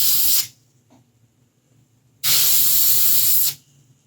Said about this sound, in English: I use the locking nut on the back of my airbrush, so I got the right amount of paint coming out.